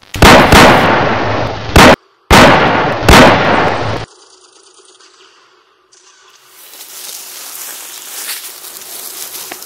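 Soldiers open fire in a wartime scene: loud, rapid bursts of gunfire cut off by brief gaps, then a quieter, hissing tail once the shooting stops.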